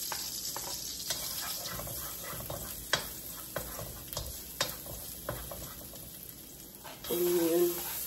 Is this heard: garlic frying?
yes